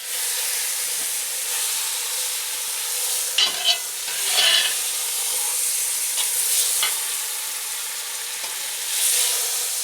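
Food fries in butter in a hot pan, a steady close sizzle and hiss with a few louder crackling bursts partway through, and no voices.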